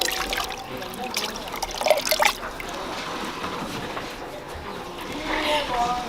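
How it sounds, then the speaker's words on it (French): Water runs steadily over vegetables being rinsed by hand for a Congolese spinach dish, with a continuous hiss and splashy trickle that swells near the end. "c'est la troisième fois que je rince les légumes"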